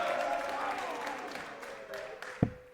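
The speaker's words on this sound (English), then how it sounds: "Crowd are going wild" Darts finals night crowd cheering and applauding, a broad wash of clapping and noise that fades gradually, ending with one sharp knock.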